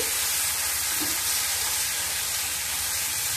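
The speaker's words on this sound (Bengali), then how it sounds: "এবার আদার কাঁচা গন্ধ যাওয়া অবধি কষে নেব।" A cumin, ginger and turmeric paste sautéed in hot tempering oil for a Bengali village-style ash gourd curry, giving a dense, even sizzle and hiss that stays close and steady with no voices.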